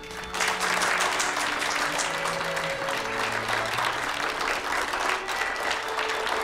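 Steady audience applause at a ceremony runs throughout, fairly loud and continuous after a brief start, with faint tonal music or voices underneath.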